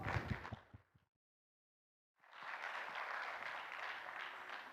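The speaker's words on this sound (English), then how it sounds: "please welcome him with a big round of applause" Audience applause welcoming a speaker at an international symposium on radioactive waste safety management: a brief fade of prior sound, a short silence, then steady, fairly distant clapping from a large crowd.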